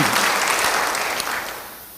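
Audience applause at a church service, a dense steady wash of many hands clapping together at fair loudness, fading off toward the end of the burst.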